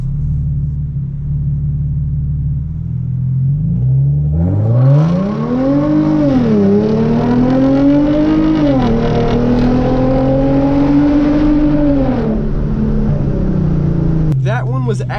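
A Hyundai Genesis Coupe idles, then launches hard in sport mode, its engine note climbing through a sustained rev with a gear change partway, loud and close from inside the cabin until it settles near the end.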